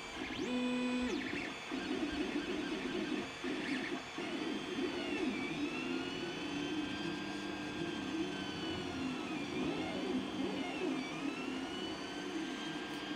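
A 3D printer running a print just after a mid-print filament colour change, giving a steady mechanical whir with shifting stepper-motor tones that carries on without a break, close and moderately loud.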